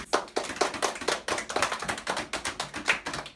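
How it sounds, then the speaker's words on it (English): Scattered applause for contestants at the close of a talent show, a thin, uneven patter of individual claps with distinct taps, close and fairly quiet. "Now let's give a big round of applause to all our contestants."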